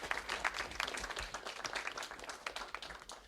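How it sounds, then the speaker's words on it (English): An audience at a science café debate applauds steadily for a few seconds, dense overlapping claps with no voices over them. "And clap for Gary"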